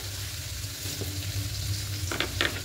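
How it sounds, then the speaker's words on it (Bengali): A paste of onion and tomato masala sizzles and fries in a pan, a steady close crackle, with a few sharper stirring scrapes near the end. "খুব ভালো করে একটু কষিয়ে নেব পেঁয়াজ আর টমেটোটাকে"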